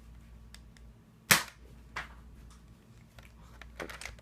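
A Nerf toy gun fires foam darts with one sharp, loud snap, then softer clicks and clacks of handling and faint taps in a quiet room, with no talk.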